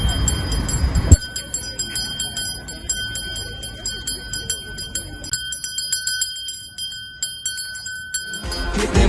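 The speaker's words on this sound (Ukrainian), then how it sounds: "А тепер настане та хвилина, коли наш перший дзвоник продзвенить." A school's first bell rings continuously with rapid, bright repeated strikes, sustained for several seconds before stopping, with crowd noise at the start and end.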